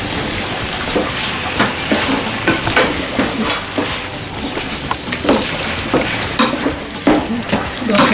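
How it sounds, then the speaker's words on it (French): Meat frying in butter in a saucepan and being turned with a utensil: a steady loud sizzle runs throughout, broken by repeated scraping stir strokes close up, with no talk. "je vais tout de suite mettre ma viande"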